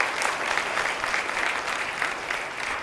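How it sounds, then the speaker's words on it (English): Enthusiastic audience applause at a motivational seminar, dense sustained clapping from a large crowd, loud and close with no pauses. "Please give this young lady a big round of applause"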